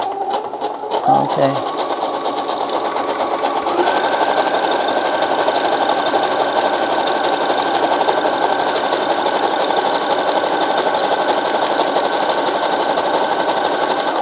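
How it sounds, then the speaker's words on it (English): A domestic sewing machine runs a zigzag stitch through paper for a handmade junk-journal envelope, a steady mechanical whirr and rapid ticking that continues throughout, close and fairly loud, after a brief spoken word near the start. "I'm going to do a zigzag stitch, which is number 4."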